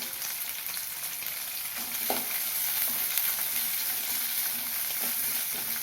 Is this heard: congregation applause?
no